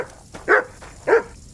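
A dog in the medieval video game Kingdom Come Deliverance 2 gives two short, close barks about half a second apart over faint background ambience.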